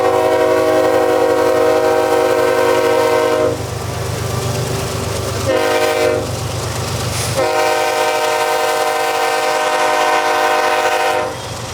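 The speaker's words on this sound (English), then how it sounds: "what used to be one of the Bone Valley's most iconic trains enters New Wales under the desolate moonlight" A CSX freight train hauling covered hoppers rolls into New Wales at night, its loud chorded horn blasting in long sustained calls over a heavy rumble of wheels and cars.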